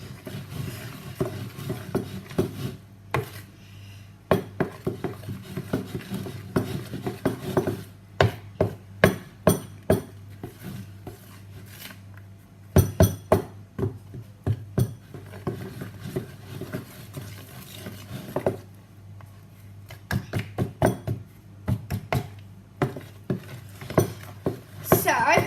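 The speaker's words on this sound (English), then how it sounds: "So now I need to just mix it a bit more." Victoria sponge batter being stirred in a mixing bowl by hand, a steady run of soft scraping and clinking strokes with sharper taps of utensil against bowl, close and fairly quiet with gaps between bursts.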